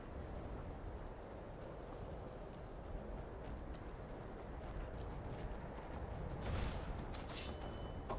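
Faint, muffled horse hooves clip-clop steadily in Skyrim beneath a dense wash of ambient noise, the rhythm soft and continuous with no distinct strikes standing out.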